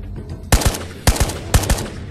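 A gold AK rifle fires in the VR shooter Ghosts of Tabor: three short, loud bursts of two or three sharp shots each, evenly spaced over about two seconds, with no speech.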